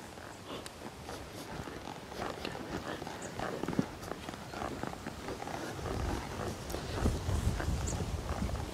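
A horse walks with steady clip-clopping hooves on ground outdoors, rhythmic and moderately close, amid low background rumble with faint voices.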